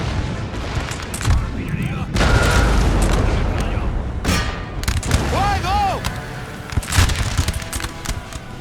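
Musket volleys and cannon booms from the Empire: Total War strategy game, loud irregular bursts of gunfire and deep thuds over about eight seconds, with people talking throughout.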